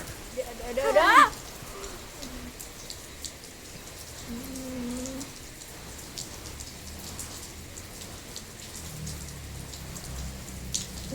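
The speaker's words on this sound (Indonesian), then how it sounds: "Hujan." Rain falling steadily, a soft continuous patter with a brief louder burst near the start and a bird cooing faintly in the background.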